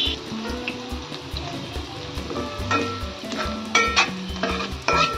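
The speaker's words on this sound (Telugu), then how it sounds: "ఆయిల్ హీట్ అయినాక దాల్చిన చెక్క, నెక్స్ట్ ఆనియన్స్," Onions, cinnamon and bay leaf fry in hot oil for a Telangana-style fish curry, giving a steady sizzle with repeated stirring and scraping of a spoon in the pan.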